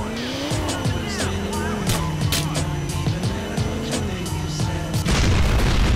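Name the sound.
explosion in a video game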